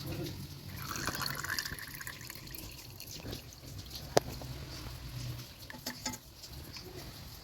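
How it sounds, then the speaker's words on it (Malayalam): Homemade ghee pours through a strainer into a vessel, giving a soft liquid patter and trickle with small drips and one sharp clink, all quiet and close. "നമുക്കിത് ഒരു പാത്രത്തിലേക്ക് അരിച്ചെടുക്കാം"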